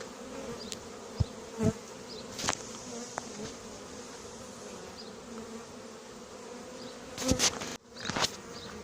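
A swarm of honeybees gathered during recovery of a swarm hums in a steady, dense drone close by, broken by a few sharper knocks and handling noises near the end.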